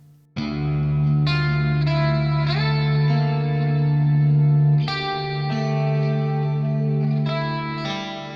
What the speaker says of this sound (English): a clean guitar that sounds pristine and lightly affected